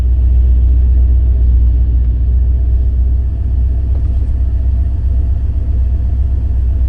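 A 1985 Porsche 928 cruising on the road, heard from inside as a steady, loud low rumble of engine and road noise with no voices over it.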